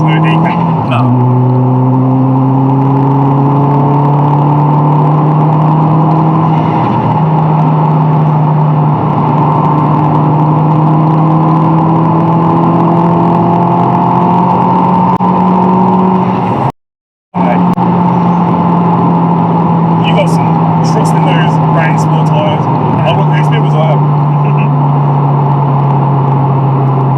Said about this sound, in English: everything you guys are going to be currently hearing is actually under the engine bay